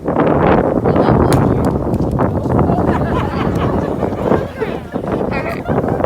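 Wind buffeting a microphone outdoors at a campus rally, a constant rough rumble throughout with a person speaking over it.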